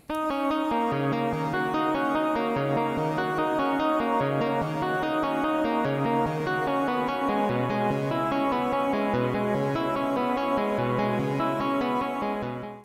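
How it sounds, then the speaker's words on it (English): Sustained notes washed in a long, lush reverb tail made with Ableton Live stock plugins, the tones blurring together into a dense, continuous ambient wash at steady loudness. "And now our reverb sounds like this."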